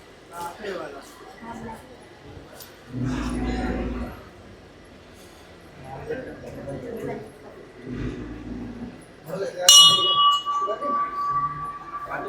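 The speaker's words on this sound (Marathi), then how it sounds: "छोटे छोटे कुत्र्यांची पिल्लं." Small puppies near a temple yip and bark in short bursts, mixed with whimpers, while people talk nearby and a faint bell-like clink rings out toward the end.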